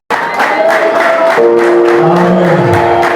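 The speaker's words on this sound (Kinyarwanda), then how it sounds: "komera Imana amashyi menshi cyane" Loud crowd applause and cheering during a church service at a wedding, continuous and dense for about three seconds, with sustained tones and a rising voice or instrument running beneath the clapping.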